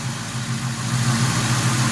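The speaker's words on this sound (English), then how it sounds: "Seems like it's idling a little bit smooth." The engine of a 22-year-old Ford Mustang idles steadily and smoothly, a close, continuous low rumble with an even hum and no revving.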